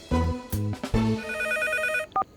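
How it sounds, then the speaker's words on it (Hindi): A cartoon telephone rings at night in repeated electronic bursts, loud and close, with a trilling tone that cuts off near the end before a short final chirp. "इतनी रात को कौन फोन कर रहा है मुझे?"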